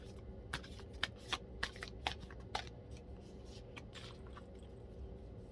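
A deck of oracle cards being shuffled by hand nearby, a string of crisp riffling bursts in quick succession that fades into faint rustling, quiet overall, with no talking.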